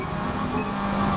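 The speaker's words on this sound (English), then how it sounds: "I'm hearing somebody's car." A car engine in the racing game Forza Motorsport 8 hums steadily, droning at a moderate distance with a slight rise in pitch, alone without voices.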